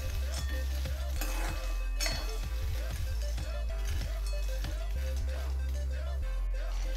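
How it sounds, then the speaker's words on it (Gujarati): Roasted peanuts being stirred in a pan over a high gas flame for peanut chikki, with a steady run of metal scraping and clinking strokes close by and a soft sizzle underneath. "અને જો શેકેલી લીધી હોય તો એને આપણે 1-2 મિનિટ માટે શેકવાની છે ફાસ્ટ ગેસ ઉપર"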